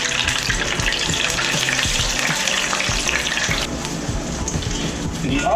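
Italian rice balls deep frying in a pan of hot oil give off a dense, loud, continuous bubbling sizzle that runs steadily throughout.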